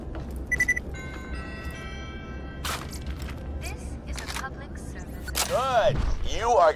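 Gunfire from Borderlands: The Pre-Sequel as a statue's head is shot off, scattered impacts and bursts over a steady game backdrop, ending in a louder whooshing, warbling flurry of sharp blasts.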